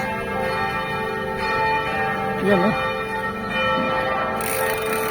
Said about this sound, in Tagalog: So, kinakapture natin yung tunog ng bells.